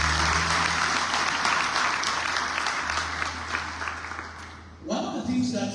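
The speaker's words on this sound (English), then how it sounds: "Come on, clap your hands for Jesus." A church congregation claps their hands during a sermon, a broad, steady spread of applause with a low sustained musical tone beneath, fading near the end before a voice and instruments come back in.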